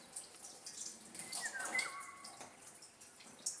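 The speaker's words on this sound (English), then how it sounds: "And now we need to wash our egg." Water trickles softly and steadily over an emptied eggshell as it is rinsed, a faint, continuous wash with light splashy detail.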